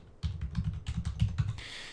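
Close, crisp keystrokes on a computer keyboard type the ipconfig command: about a dozen quick clicks in an uneven rhythm, ending with a slightly longer press.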